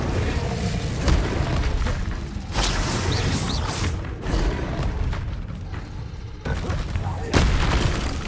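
Incendio fire spell in Hogwarts Legacy during combat, a roaring, crackling burst of flame amid repeated impacts and booming battle effects, loud and continuous over several seconds.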